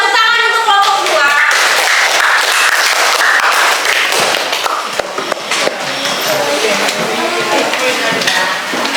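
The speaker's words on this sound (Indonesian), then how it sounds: "Tepuk tangan untuk kelompok 2." A classroom of students claps for a presenting group, dense sustained applause that stays loud throughout, with voices mixed in under the clapping.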